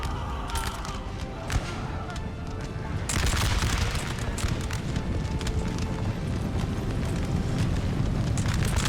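A Napoleonic battle in Napoleon Total War, with a dense rolling crackle of musket fire over a loud battlefield rumble that swells into a heavier, sustained fusillade partway through.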